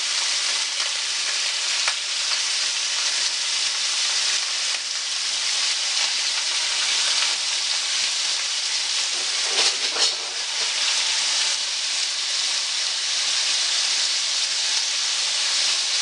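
Onions sizzle steadily in a crowded hot pan as they caramelize for a cheesesteak wrap, a loud, even hiss and crackle that runs without a break, with a brief stir partway through.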